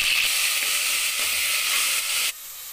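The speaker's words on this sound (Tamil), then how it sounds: "பாருங்க வெங்காயம் லேசா செவந்திருக்கு பாத்தீங்களா, இந்த அளவுக்கு வதக்கிக்கணும் கொஞ்சம்." Onions sautéing in a pan for Tamil paya kulambu give a steady, loud, hissing sizzle that cuts off abruptly near the end, with no voices.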